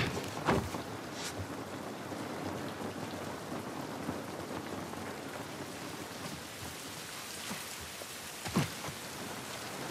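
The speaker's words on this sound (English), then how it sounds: "This rain ain't gonna do us any good." Steady rain pours down continuously in the video game The Last of Us Part 1, with a couple of sharp cracks of thunder or impacts standing out near the start and end.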